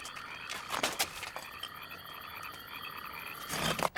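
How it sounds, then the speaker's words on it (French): Frogs croak in a dense, lively chorus, a continuous raspy chatter with a few louder close calls rising out of the background, no voices over it. "Des grenouilles. Ça grouille pas mal par ici."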